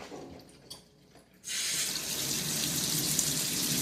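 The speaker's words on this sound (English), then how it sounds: "Now you're going to refill the sink with clean water." Water from a tap gushes into a sink as it is refilled with clean water during endoscope reprocessing. A faint start gives way to a sudden loud, steady rushing stream.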